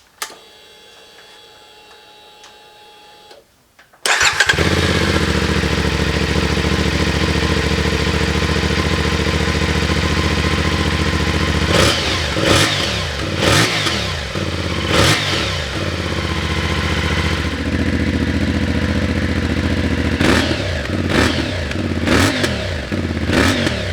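CFMOTO Ibex 450 motorcycle fitted with a new aftermarket exhaust, removable baffle installed, starting after a short quiet stretch, then idling loudly and close with several sharp throttle blips and revs.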